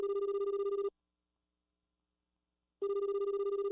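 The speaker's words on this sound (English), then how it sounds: "Okay, phone's ringing." A telephone rings in the Apollo Justice: Ace Attorney Trilogy game: two loud bursts of steady electronic ringing, each under a second long, separated by roughly two seconds of silence.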